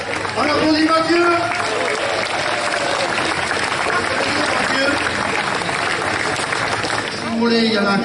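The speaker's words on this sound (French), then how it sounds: "On applaudit Mathieu" Crowd applauding at a Basque strength games event in Hasparren after a man finishes carrying heavy cans, sustained clapping and cheering throughout with voices and chatter mixed in.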